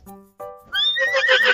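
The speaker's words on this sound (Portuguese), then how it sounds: "esse é o do cavalo" A horse whinnies, a short rising neigh that builds into a loud, shrill, quavering call, heard alone and close.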